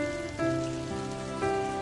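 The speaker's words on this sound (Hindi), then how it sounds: "और वूसू में अक्सर दिखने वाली बारिश की आवाज।" Rain falling in a soft, continuous patter, steady and even, heard alone beneath a gentle sustained musical tone with no talking.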